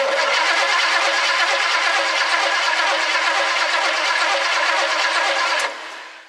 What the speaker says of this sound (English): we're gonna crank it over and see if we got spark